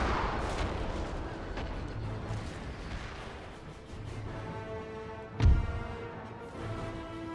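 Artillery bombardment during a Napoleon Total War battle, with a continuous rumble of distant cannon fire and one sharp, loud boom standing out near the end.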